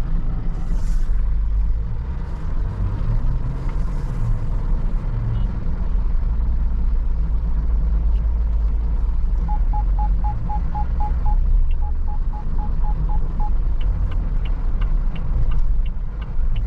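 Steady low engine rumble of a GWM Tank 300 2.0L SUV accelerating onto a highway under constant road noise, with a faint repeated beeping chime midway.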